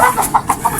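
A brooding hen clucks close up in a short run of soft, rhythmic clucks, loud and alone.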